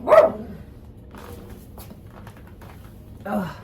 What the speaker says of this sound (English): That's my dog again. He's protecting me from the squirrels.